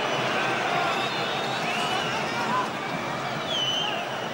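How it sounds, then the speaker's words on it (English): Crowd of Parisian football fans in the stadium during a France versus England friendly, a dense continuous roar and hubbub with scattered whistles, steady and loud throughout. "Quite a demanding crowd, the Parisians."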